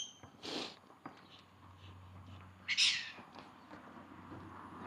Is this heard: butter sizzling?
no